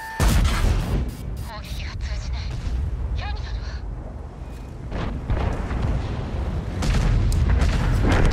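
Tank cannon fire in the World of Tanks video game, heavy booming shots with rumbling low-end blasts and engine drone, loud and close, mixed with game sound effects and someone talking over it.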